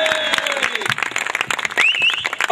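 Audience applause at a comedy stage show, dense clapping under and around a voice.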